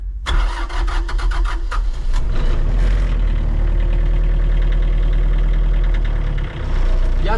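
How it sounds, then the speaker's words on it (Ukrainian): A Mitsubishi MT226 tractor's diesel engine cranks and starts in cold weather, then settles into a loud, steady rumbling idle nearby, with a brief dip in sound near the end. "камера вам передає звук роботи двигуна"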